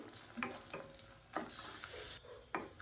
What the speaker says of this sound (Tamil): எண்ணெய் சூடானதும் ஒரு 15 வரமிளகா சேர்த்துக்கலாம்.